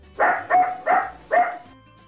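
A dog barks four times in quick succession, close and clear, with short gaps between the barks.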